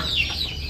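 Larger chickens on a farm cluck briefly while being fed corn and concentrate, a short, close burst of fowl sounds.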